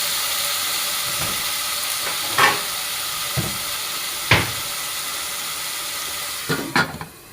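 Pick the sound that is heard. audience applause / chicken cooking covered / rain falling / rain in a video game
chicken cooking covered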